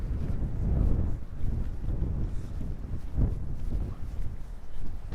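Gusty wind buffets the microphone at a lakeside wharf on New Zealand's South Island, a continuous loud low rumble that swells and eases throughout with no other clear sounds.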